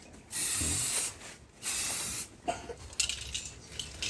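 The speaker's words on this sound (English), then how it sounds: "Okay, spraying good. So we're just gonna do a light coat first." An aerosol can of clear coat sprays onto a car headlight in two short, steady hissing bursts, followed by faint handling sounds.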